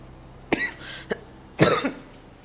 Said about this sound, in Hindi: ये अचानक तुम्हें खांसी क्यों हो गई?